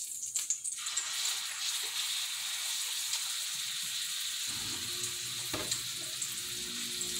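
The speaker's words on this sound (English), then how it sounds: "let my grease get hot over here in the skillet" Grease heats in a skillet with a faint, even frying hiss, a few utensil knocks at the start, then a fuller, louder sizzle from about two thirds of the way through; no voices.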